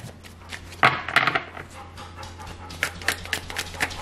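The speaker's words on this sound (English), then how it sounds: "That's my dog panting in the background." A dog pants nearby in quick, breathy bursts, with a few light knocks and clatters mixed in.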